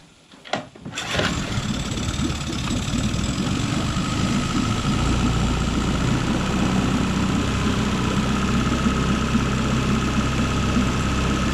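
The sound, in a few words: jon boat engine cranked up and running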